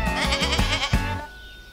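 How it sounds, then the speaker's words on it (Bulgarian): A goat bleating close by, a wavering, rhythmic bleat lasting about a second before fading into quiet. "Това е коза."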